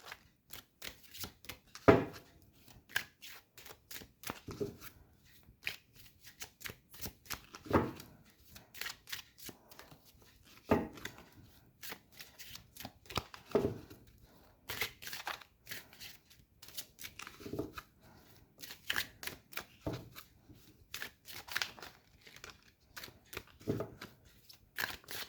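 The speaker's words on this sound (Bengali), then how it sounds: "আমি একটুখানি কার্ড শাফল করে দেখব গ্রুপ 1-এর জন্যে" Tarot cards are shuffled by hand in quiet bursts of crisp riffling and papery flicks, with short pauses between bursts and some louder snaps, close and fairly faint, with no one talking.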